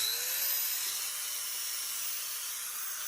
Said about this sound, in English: I carefully use my angle grinder to smooth out the sharp edges.